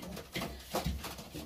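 A few soft, low coos from a racing pigeon hen close by, short murmuring bursts with quiet gaps between them.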